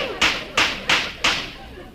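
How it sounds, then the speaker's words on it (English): Four sharp firecracker pops go off as a radio show sound effect, evenly spaced and close, each a crisp crack with a short fading tail, sounding alone. "Look out for these firecrackers."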